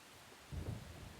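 Soft, steady rain hiss in the game Deadly Premonition swells briefly with a low, muffled rumble of thunder, faint and distant, with no voices.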